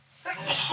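A single sharp sneeze bursts out after a brief quiet moment, close and fairly loud, with a breathy intake leading into it.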